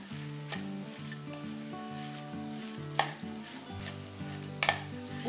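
Halim (garden cress) seeds being stirred into a hot jaggery and coconut mixture in a pan for ladoos: a steady close sizzle with soft stirring, broken by a few sharper scrapes against the pan.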